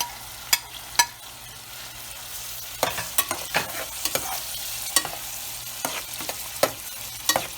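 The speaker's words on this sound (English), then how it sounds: "I just want to roast my spices so that the flavor gets more enhanced." Whole spices roast in a hot pan for spicy potato tarkari, with a soft steady sizzle broken by sharp scraping and tapping of a utensil stirring them, close and without talk.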